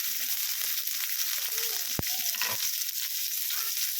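Chopped onion with cumin fries in hot oil, giving a steady close hiss and sizzle throughout, with a brief stirring knock partway through.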